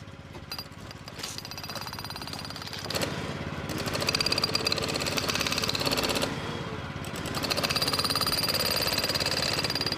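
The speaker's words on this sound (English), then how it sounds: "Now the drill is working again, I'll be able to finish that job for you." A compressor-driven pneumatic drill hammers steadily and loudly at a front-garden job, a dense continuous rattle that swells slightly louder partway through and keeps going without pause.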